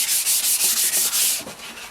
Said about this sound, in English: score the surface with some 600 grit